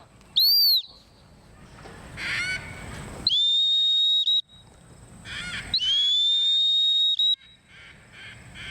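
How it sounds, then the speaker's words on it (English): Loud, shrill dog training whistle blasts sound close by: one short toot, then two long sustained blows as a hunt command, with quiet outdoor background between them. "So I changed that cadence on the whistle."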